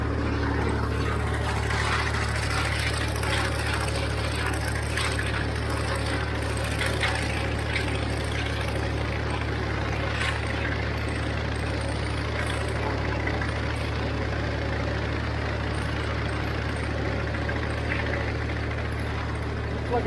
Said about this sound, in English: So I figured I'd run this sickle mower in known territory so I don't damage it